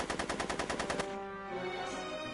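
Rapid gunfire bursts from a Back to the Future video game rattle loudly for about a second, then stop and leave a tonal ringing hum.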